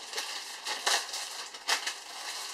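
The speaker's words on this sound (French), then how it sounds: "Je redéballe, désolée pour le bruit." Crinkly plastic packaging being unwrapped from a set of makeup brushes, close up, with a few louder crackling bursts amid steady rustling and no talk.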